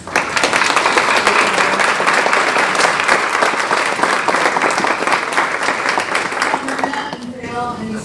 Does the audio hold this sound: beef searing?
no